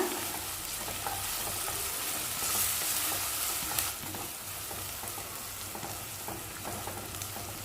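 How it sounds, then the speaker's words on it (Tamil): Onions and green chillies sautéing in a pan, a soft, even frying hiss that runs throughout with faint occasional stirring taps, fairly quiet and with no talking. "வெங்காயம் பச்சை மிளகாய் நல்லா வதங்கட்டும்."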